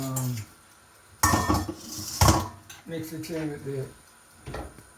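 Saltfish and chickpeas being mixed in a pot, with a few clattering scrapes and knocks of a spoon against the pot between stretches of talk.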